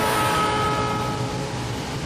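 A train rumbles by close, with a steady high whistle tone sounding over the rolling noise of the cars.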